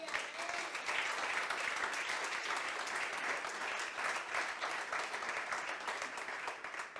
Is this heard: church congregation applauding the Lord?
yes